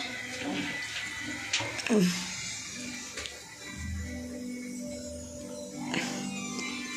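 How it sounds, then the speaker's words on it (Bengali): Hot water poured from a pot into a bowl holding salt, a short splashing pour amid kitchen sounds, with a person talking nearby. "নুন দিয়ে এবার এই জল গরমটা আমি এই বাটিতে ঢেলে দেব"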